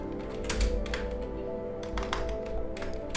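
C code being typed on a computer keyboard: steady, close keystrokes in uneven runs, with a few louder taps, over a constant background hum.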